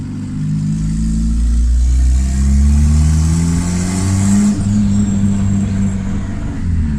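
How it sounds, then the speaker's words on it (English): A turbocharged Honda Civic D16 engine revs loudly and steadily nearby, its pitch rising and falling through several climbs with a deep, throaty drone, with exhaust leaks fixed. "Sounds better without all those exhaust leaks."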